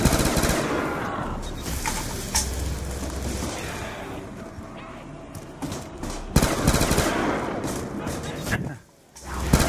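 Rapid automatic fire from a gun in Black Ops 2 Zombies, Mob of the Dead map, with long bursts of fast shots that come and go, loud against game noise, with players chatting over it.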